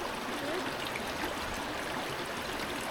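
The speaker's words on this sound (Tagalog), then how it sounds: "Hindi siya ganun kalakas ang agos ng tubig dahil may mga nakaharang na bato" Stream water flows steadily over rocks in a gentle, unbroken rush that fills the whole stretch, close by and moderately loud, with no talking.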